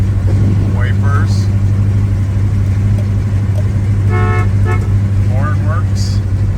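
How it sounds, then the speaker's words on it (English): The horn of a 1975 Pontiac Firebird Formula gives two short, clear toots in quick succession near the middle, over a steady idling engine hum, with a few faint squeaks around it and no voice over the horn itself. "Horn works."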